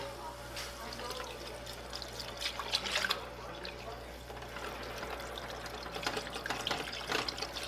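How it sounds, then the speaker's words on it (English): Milk being poured into chicken gnocchi soup while it is stirred vigorously, a faint steady liquid trickle and splash with occasional utensil clinks against the pot, quiet and close. "you're going to add in 2 cups of milk. You're going to do this stirring vigorously to prevent any clumping."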